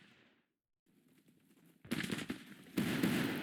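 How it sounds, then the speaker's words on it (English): Artillery cannon fire in the Civil War strategy game Grand Tactician, heard as a burst of dense, rolling booms that grows louder in two surges after a quiet opening stretch. "We are going to see if we can get some cannon fire on them back here to this side."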